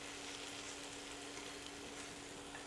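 Salmon searing in a hot pan, a steady, faint crackling sizzle that runs evenly throughout without voices.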